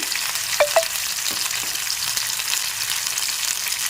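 Tomatoes, green chilies and ginger paste frying in a pan with a steady crackling sizzle, a couple of sharp utensil clinks early on as the mixture is stirred.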